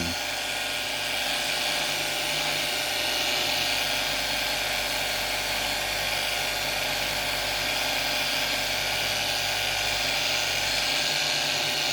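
A polishing machine buffs a guitar headstock faceplate that has been level sanded to 1200 grit, giving a steady, loud, high whirring drone with no break for the whole stretch and no voices.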